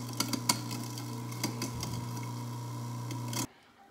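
A garbage disposal motor hums steadily with rattling, clattering bits churning inside as its blades spin during cleaning, then cuts off abruptly near the end.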